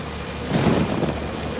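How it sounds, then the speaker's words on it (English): A brief wash of steady rainfall with a low rumbling swell in the middle, dense and fairly close. "See that rain?"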